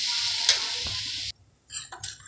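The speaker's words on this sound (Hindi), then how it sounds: "अब इसमें हम कैबेज और कैप्सिकम ऐड कर देंगे। हमने इसमें कैबेज और कैप्सिकम ऐड कर दिया है। अब हम इसे अच्छे से फ्राई होने देंगे।" Cabbage and capsicum stir-fry with onion in a pan, a loud hissing sizzle that stops abruptly, then short renewed bursts of frying as the vegetables are stirred.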